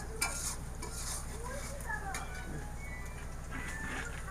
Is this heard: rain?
no